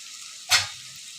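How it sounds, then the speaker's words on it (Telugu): A pan of ginger paste, turmeric and mint for mutton gravy gives one short, loud sizzling burst as the food is stirred or added, over a quiet background hiss. "ఇప్పుడు మనము మటన్ అనేది యాడ్ చేసుకోవాలి"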